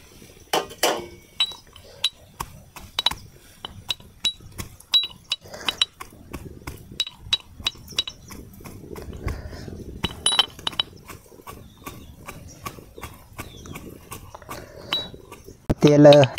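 Garlic is pounded with a pestle in a mortar in a village kitchen while oil heats: an irregular run of close, sharp knocks and clinks with short pauses between strikes.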